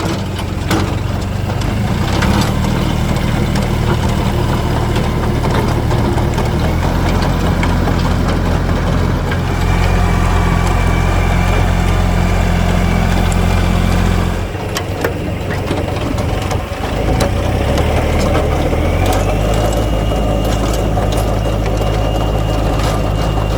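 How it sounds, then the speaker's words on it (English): A garden tiller engine runs steadily while tilling clay soil mixed with compost, giving a loud, continuous low rumble with small shifts in load and no talk. "So now Steve's gonna get to tilling."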